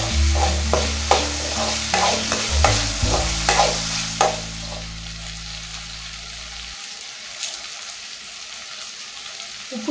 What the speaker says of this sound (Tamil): ஒரு பெரிய தக்காளியை பார்த்தீங்கன்னா கட் பண்ணி வச்சுருக்கதையும் சேர்த்துக்கலாம். தக்காளியும் நல்லா வதக்கிக்கோங்க.